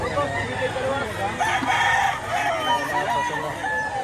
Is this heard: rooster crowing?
yes